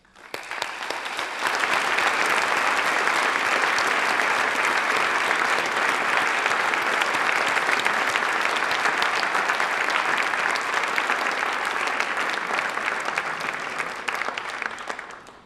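A graduation ceremony audience at Jacobs Graduation 2008 breaks into loud, sustained applause that swells within the first second or two and holds as a dense, continuous wash of clapping for about fifteen seconds, with no voices over it.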